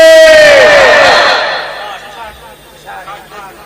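A large crowd at a religious sermon gathering answers a call for takbir with a loud, unified roar of voices that fades over about a second and a half, followed by quieter background murmuring.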